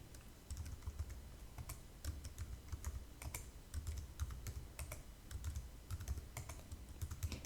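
Data is tapped out on a computer keyboard in a quiet, steady run of light clicking keystrokes, with occasional slightly heavier presses, close by.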